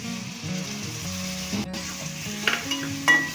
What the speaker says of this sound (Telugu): ఈ విధంగా ఫ్రై అవుతున్నాయి కదా